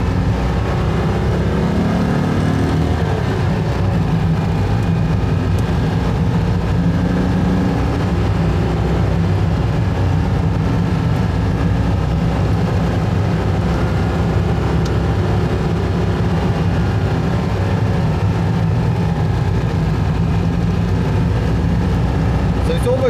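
A Citroën 2CV with a freshly overhauled engine droning steadily while driving gently uphill on the road, a loud continuous low hum and rattle from inside the car, with someone talking over it.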